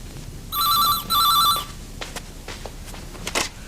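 A telephone rings indoors at night in a 1995 drama, two electronic ring bursts in quick succession, moderately loud, followed by a few faint footstep-like clicks in a quiet room.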